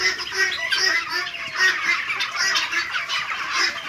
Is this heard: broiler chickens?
yes